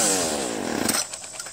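A string trimmer's small engine snarls loudly up close, then its buzzing pitch winds quickly down over about a second, leaving a few faint sputters.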